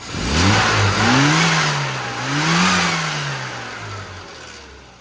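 A car with a freshly tuned carburettor pulls away on a test drive. Its engine revs up loudly nearby, eases off, then rises again before fading slightly as it moves away.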